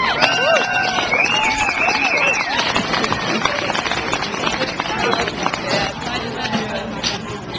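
A crowd claps and cheers steadily for several seconds, a dense wash of applause with voices mixed in.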